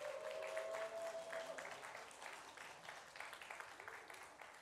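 A church congregation breaks into applause and cheering during a Sunday service, a faint, sustained patter of many hands that slowly tapers off, with an early tonal note.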